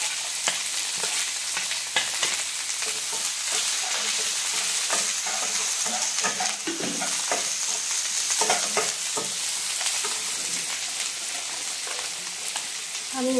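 Chopped green chilli and onion fry in hot oil over medium heat for dhaba-style tadka dal, a steady close sizzle with scraping stirs and crackles throughout, no voices.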